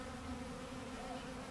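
A bee swarm gathered around a virgin queen gives a steady, dense buzzing hum that holds unbroken and close throughout, with no voices.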